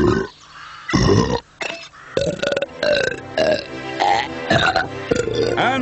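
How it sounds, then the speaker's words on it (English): A series of loud, drawn-out burps, close and comical, several in a row with short gaps between them, one rolling into the next. "please allow us to instruct Your Highnesses in the art of burping."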